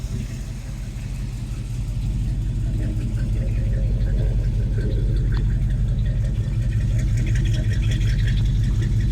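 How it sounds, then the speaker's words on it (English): Original 402 V8 in a 1972 Chevy C10 short bed Super Cheyenne pickup running through Flowmaster exhaust, a steady deep low rumble close by that grows slightly louder after the first couple of seconds. "Sounds like Flowmaster Exhaust."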